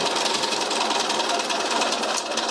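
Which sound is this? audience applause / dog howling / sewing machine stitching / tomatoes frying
sewing machine stitching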